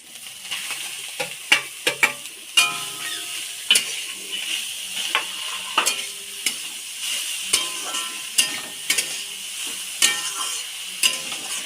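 Grated beetroot and carrot stirred into a hot spiced masala in a pan for vegetable chops. A steady close sizzle runs throughout, broken by repeated sharp scraping clicks of the spatula, with no talking.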